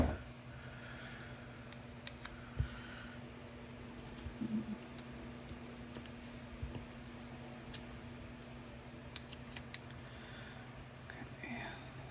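Soft scissors snips trim a paper planner sticker at close range, faint and intermittent, under quiet whispered talk and a low background hum.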